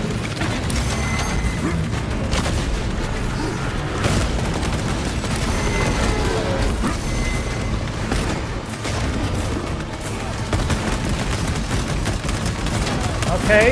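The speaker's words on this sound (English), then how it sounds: "heavy bolt rifle is definitely doing work." A heavy bolt rifle in Space Marine 2 fires continuously amid battle, with rapid booming shots, clanking mechanical weapon noise and explosions layered throughout, loud and busy, with some voices mixed in.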